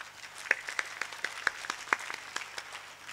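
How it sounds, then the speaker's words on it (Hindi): An audience at a mushaira poetry recital gives scattered, sparse claps over a faint background, with a few individual hand claps standing out. "ताली कम बजाई आपने"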